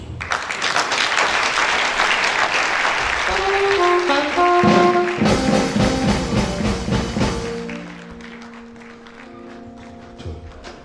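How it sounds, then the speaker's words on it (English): Audience applause at a university convocation ceremony, loud sustained clapping from a large crowd that thins and fades toward the end, with musical tones rising underneath partway through. "Another round of applause for our Chancellor."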